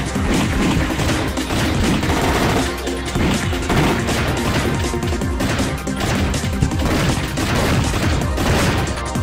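Silenced gunfire in the 2D shooter game Thing Thing Arena: a dense, continuous barrage of loud shots and crashing impacts runs without a break, with no clear talk over it.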